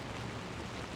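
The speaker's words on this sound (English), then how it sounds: "it's raining" Rain falls steadily on a city street in a financial district at night, a soft, even hiss of pattering drops with no voices or distinct events.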